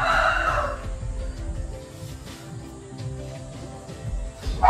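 Chickens clucking and calling at close range, a loud burst at the start then scattered softer clucks over steady background noise.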